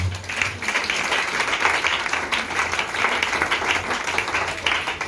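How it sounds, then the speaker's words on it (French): A church congregation applauding, a dense, steady wash of many hands clapping at close range that holds evenly for several seconds without a break. "acclamons la parole du Seigneur"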